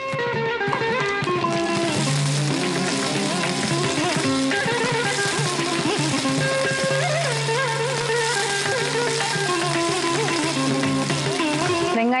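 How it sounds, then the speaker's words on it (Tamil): Onions sauté in hot oil with mustard seeds and curry leaves, giving a steady, even sizzle that runs the whole time beneath tonal background music. "வெங்காயம் கொஞ்சம் நல்லாவே வதங்கட்டும்."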